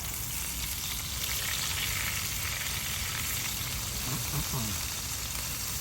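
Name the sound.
burgers frying in a pan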